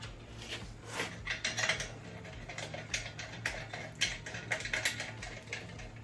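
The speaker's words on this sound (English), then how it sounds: "I'm going to set this on top, put the 2 screws in." Two screws being fitted into the metal top of a beef jerky gun during assembly: close, busy clicking and clinking of small metal parts, with irregular rattles and taps running throughout.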